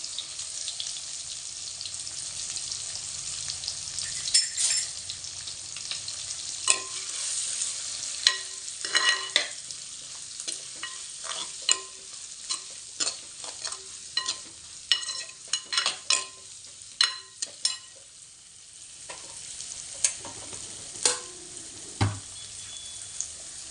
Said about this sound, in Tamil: வெங்காயம் பச்சை மிளகாய் சேர்த்து நல்லா வதக்கிக்கலாம்